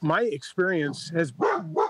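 A pet dog gives a few sharp barks in the background while someone speaks continuously during a city council meeting, the barks partly buried under his voice.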